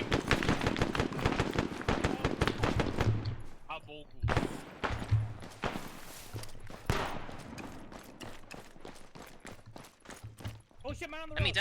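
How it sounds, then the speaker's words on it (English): Rapid bursts of automatic and single gunfire in the military game ArmA, sharp cracks repeating close and loud with short pauses between volleys, while players talk over the shooting. "Shots!"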